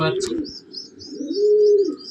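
A Madrasi pigeon coos up close in a loft, a low throaty warble swelling into a long sustained note, with soft chirps and a voice briefly in the background.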